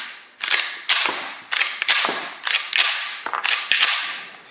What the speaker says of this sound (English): This is the factory mag, and it goes in, and it ejects nicely.